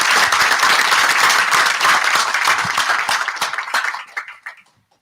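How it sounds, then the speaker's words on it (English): Loud, dense applause from a presentation audience at a community event, steady clapping for about four seconds before tapering off into silence. "let's give them a big round of applause for a great idea"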